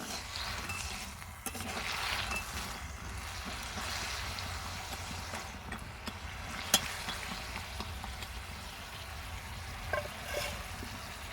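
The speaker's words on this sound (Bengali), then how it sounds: "এইভাবে আমি দু মিনিটের মতো চিনি ছিঁড়ার মধ্যে ফুটিয়ে নিব" Fried semolina pitha simmering in sugar syrup in a pan on the stove, a steady soft bubbling hiss throughout with a few faint clicks, quiet and close, no voices.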